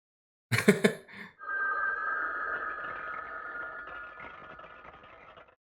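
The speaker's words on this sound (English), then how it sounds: "Every phone ringing at once?" A burst of overlapping telephone rings at the start, then a long, steady electronic trill that slowly fades out over several seconds.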